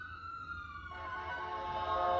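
An ambulance siren wails in the distance, faint at first and then growing louder and more tonal over a couple of seconds.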